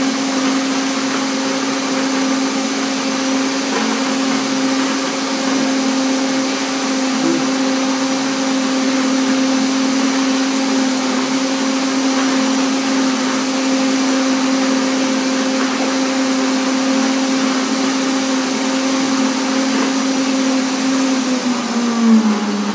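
A kitchen blender blending a peanut and cacao drink whirs loudly and steadily for over twenty seconds, a continuous motor drone whose pitch dips slightly as it winds down at the end.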